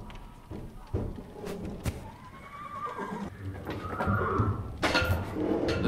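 Agitated horses in the Secret Files 3 adventure game whinny and snort amid thuds and hoof clatter, with a rising neigh near the middle and sharp knocks throughout, fairly close.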